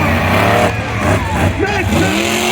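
A monster truck on 66-inch wheels roars through a night-time destruction show, its deep engine rumble loud and steady throughout while an announcer talks over it.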